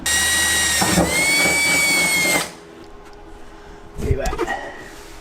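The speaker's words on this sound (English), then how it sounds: "Let's get a drill bit and a drill. Let's drill a pilot hole" A power drill whines loudly and steadily for a couple of seconds while drilling a pilot hole during a body kit fender install on a Mercedes 190E Evo 2, then stops, followed by a brief clunk and handling noise.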